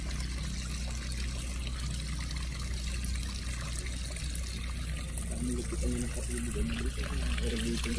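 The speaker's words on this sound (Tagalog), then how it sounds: "Ganda ng tubig ano?" Fresh irrigation water from the mountains flows steadily, a constant close rushing and trickling that runs throughout with a low hum beneath.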